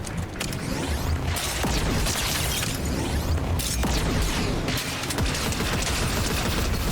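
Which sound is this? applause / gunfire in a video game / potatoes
gunfire in a video game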